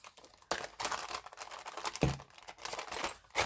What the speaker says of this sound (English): I'm just going to trim out along the edge of my envelope.